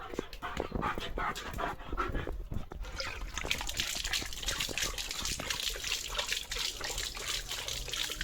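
A dog laps water with quick wet splashy licks, panting between sips, close up and continuous.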